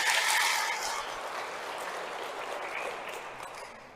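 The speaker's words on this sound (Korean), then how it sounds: "박수 한번 쳐주세요." An audience at a Catholic seminar in a hall claps in a dense burst that starts loud and slowly fades, heard from a distance, with no talking.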